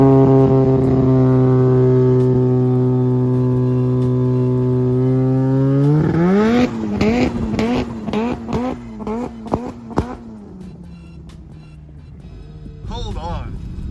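A rotary-swapped Subaru BRZ idles with a steady buzzing drone, then revs hard in a string of sharp, snarling blips and pops with falling pitch. It is loud and close in a snowstorm, with people talking over it.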